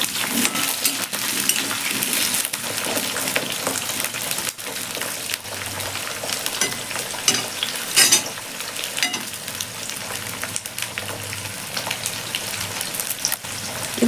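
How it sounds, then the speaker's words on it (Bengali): Potatoes and pointed gourd fry together in a pan of hot oil, giving a steady, close, continuous sizzle with occasional stirring clatter and no talking. "পটল আর আলু একসাথে ভাজা হবে।"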